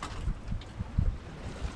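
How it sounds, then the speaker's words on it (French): Wind blows at sea aboard a sailboat, gusting against the microphone with soft low thumps of water against the hull, brief and moderately loud without voices. "Le vent tombe un petit peu"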